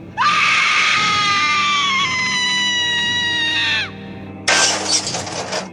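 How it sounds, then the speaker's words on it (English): A long, loud shrieking scream with wavering pitch holds for several seconds before cutting off, followed by a short burst of harsh, noisy crashing, set in an echoing scrapyard story about a ghost coronation locomotive. "Queen Mary screamed loudly into the dark, and all around the scrapyard, her scream echoed everywhere."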